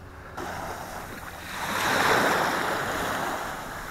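Atlantic Ocean waves wash onto a sandy dune shore, a broad steady rush that swells into a louder surge midway, with wind buffeting the microphone throughout.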